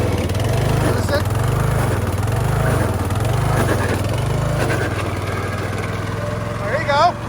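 A Craftsman LT1000 lawn tractor engine with a burning-smelling clutch and suspect rear gears runs roughly nearby, its loud drone rising and falling in a regular surging rhythm for several seconds before a brief squeaky chirp near the end.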